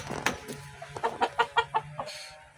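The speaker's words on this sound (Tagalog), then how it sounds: "may sisiw pala dito" Chickens clucking close by with a chick among them, a quick run of short rhythmic clucks rising and falling over a steady low background hum.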